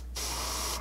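Spray paint hisses in one steady, close burst of just under a second as it mists onto a miniature, with no talking.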